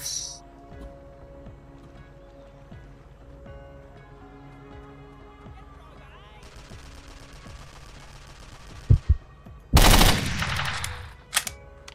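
M16 rifle gunfire in a Vietnam war video game: a few sharp shots and then a loud, dense burst of automatic fire near the end. Quiet ambient game sound fills the stretch before it.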